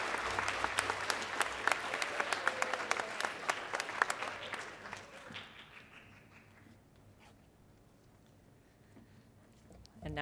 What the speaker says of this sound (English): And a round of applause for my homeroom.